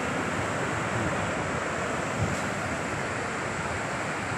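Sea surf at Kozhikode beach in Kerala rolls as a steady, continuous wash of broadband noise with wind buffeting the microphone, no voices present.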